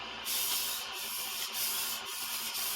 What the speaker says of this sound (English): when you're sharpening the right side of the knife, as a right-handed person, if you hold the knife in your right hand